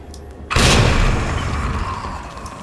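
A grenade explodes in Resident Evil 2 with one sudden loud boom and a heavy rumbling blast that decays slowly over the next two seconds.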